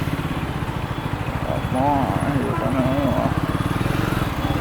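A Royal Enfield Guerrilla 450 motorcycle making a slow U-turn, its engine thumping in a close, steady low rhythm while someone talks over it.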